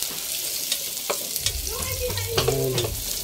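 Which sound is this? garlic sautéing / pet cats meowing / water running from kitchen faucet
garlic sautéing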